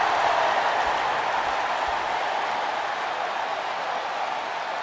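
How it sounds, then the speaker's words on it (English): Steady, dense crowd roar from a wrestling arena in the WWE 2K26 video game, loud and continuous throughout without clear breaks. "And this bloodthirsty crowd is loving it."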